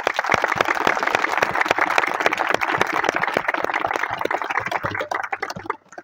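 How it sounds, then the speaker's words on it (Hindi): Loud applause from a congregation during a church worship service, dense close clapping sustained for several seconds before tapering off at the end. "ज़ोरदार तालियां बजाएं।"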